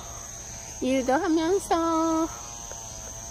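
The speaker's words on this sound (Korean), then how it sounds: "매미 소리 엄청도 크게 들리네요" Cicadas in a vegetable garden keep up a steady, high, unbroken drone throughout, while a person speaks briefly over it in the middle.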